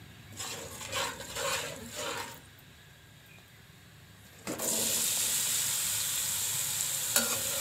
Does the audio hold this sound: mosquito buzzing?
no